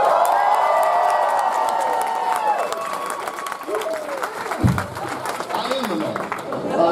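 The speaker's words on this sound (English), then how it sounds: "you all are going to clap" A convention panel audience at Dragon Con claps and cheers, a dense wash of applause and whoops from a large crowd, with voices calling out over it and a loud thump midway.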